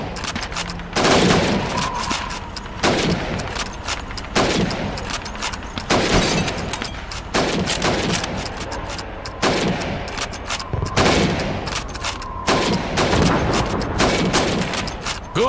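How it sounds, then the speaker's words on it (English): A rifle fires single loud cracks at steady intervals in Call of Duty 2 while helmets are shot at a timed target range, about seven shots, each echoing with a sharp impact. "You have 15 seconds to shoot the helmets."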